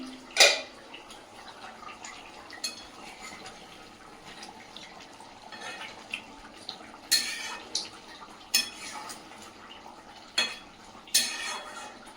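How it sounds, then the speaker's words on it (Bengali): A pot of big-fish kalia curry cooks in a home kitchen while metal lids and utensils clink and clatter in scattered sharp knocks over a soft, steady background. "কিছুক্ষণের জন্য ঢেকে রাখবো ঢাকনাটা খুলে দেখে নেব"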